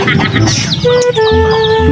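Chickens cluck and cheep close by in a short busy burst, several birds calling over one another.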